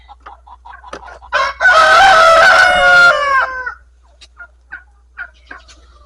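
Chickens cluck and squawk in short bursts, then a loud rooster crow rings out close by, fading back to scattered clucks.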